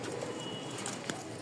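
A pair of lively pigeons coo softly amid a steady background hiss, with a brief sharp knock near the end.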